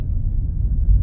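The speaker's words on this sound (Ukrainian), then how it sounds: "Трохи дізельний звук двигуна" A Renault Kardian crossover's engine while driving on city streets in Kharkiv, with a slightly diesel-like tone: a low, steady rumble heard from inside the cabin, brief and uniform.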